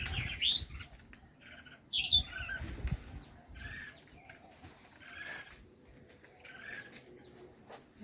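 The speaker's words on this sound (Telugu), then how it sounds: "చాలా టెన్షన్ పడుతున్నాయి పాపం పక్షులు అయితే మాత్రం పిల్లల కోసం" Anxious birds chirp and call in short bursts near their chicks in a farm garden of bitter gourd vines at harvest time, with flurries of flapping wings between the calls, close and fairly clear.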